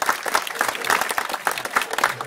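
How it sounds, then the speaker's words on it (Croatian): At an outdoor klapa concert in Herceg Novi, a small crowd gives a short, close round of applause for the group's first tenor, with rhythmic, bunched claps that hold at an even loudness. "može jedan mali aplauz za njega"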